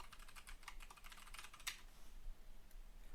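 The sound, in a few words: typing a shader name on a computer keyboard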